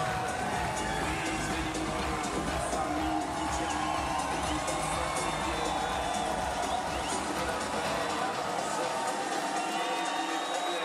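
A stadium crowd singing and cheering after a Paris 2024 men's doubles wheelchair tennis semi-final between Spain and Japan, a dense, steady roar of voices that fills the whole stretch, with chanting and shouts on top.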